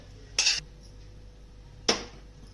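A metal pot is handled on a gas stove as water is added for boiling milk, two short clanks about a second and a half apart against a quiet background.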